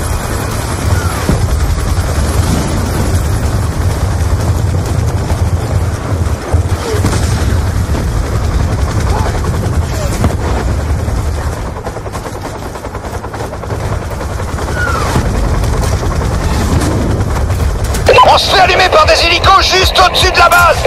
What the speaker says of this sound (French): Hélico ennemi en approche par l'est.